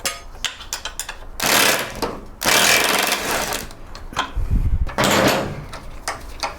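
A large impact gun zips off the suspension linkage nuts on a GSXR1000 motorcycle during a rebuild in a workshop: several loud, rattling hammering bursts, each lasting about a second, separated by brief clinks and handling noises.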